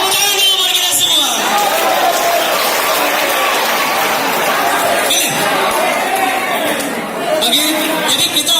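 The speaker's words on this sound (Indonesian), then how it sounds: "tepuk tangan dulu buat kita semua" Crowd at a youth leadership public-speaking event in Aceh clapping and cheering, a dense, sustained wash of applause and chatter across the whole span.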